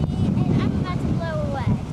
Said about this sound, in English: It is incredibly windy out.